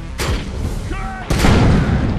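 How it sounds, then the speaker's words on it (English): Grenade launcher fire in the Defiance online shooter: two heavy booming blasts, the second louder and more sustained, with a rumbling fusillade over a busy combat soundscape. "I just loaded a grenade launcher."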